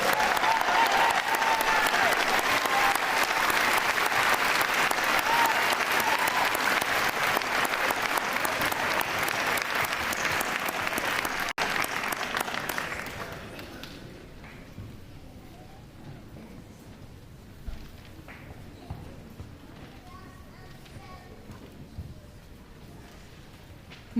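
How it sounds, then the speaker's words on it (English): An audience gives a long round of applause at a middle school 8th grade recognition ceremony, loud dense clapping filling a large room for about twelve seconds before fading to quiet room sound with a few stray claps. "Let's do a round of applause, everybody"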